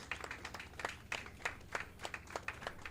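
Faint applause from spectators in a curling club warm room as the A-event finalists walk in at the Big Apple 2025 bonspiel, a thin patter of claps heard from a distance.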